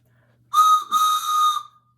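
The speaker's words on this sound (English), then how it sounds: "I even brought my whistle." A single shrill toy train whistle blown up close, two quick blasts run together with a slight break, then silence.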